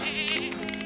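A goat in a goat pen gives one close, wavering bleat lasting under a second, loud and alone.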